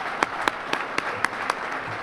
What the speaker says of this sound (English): let's give all of our stars a huge round of applause and cheer ourselves on.